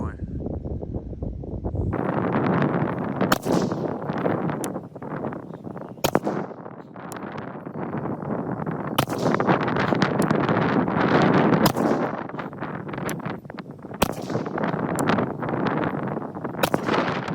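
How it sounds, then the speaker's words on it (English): Rifle shots ring out one at a time during a string fired at a target on an outdoor range, loud sharp cracks spaced a second or two apart, with wind buffeting the microphone and people talking between shots. "We're going to go ahead and shoot 3 strings of 10 shots all on the same target"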